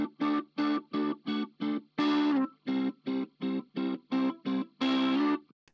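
Telecaster strums short rhythmic chords through a modulation and space effects chain, a steady run of clipped stabs with a few longer held chords, loud and alone.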